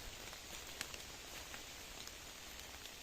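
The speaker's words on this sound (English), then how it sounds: "It is rainy tonight, but we're still smiling." Night rain falling on a wild campsite, a faint steady patter with scattered individual drops ticking on nearby surfaces.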